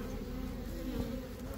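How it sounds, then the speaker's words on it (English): Honey bees buzz in a steady, close drone from a colony inside a house roof, holding at an even level from start to finish. "The bees are crawling underneath there,"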